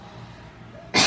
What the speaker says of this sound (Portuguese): eu tô com pigarro hoje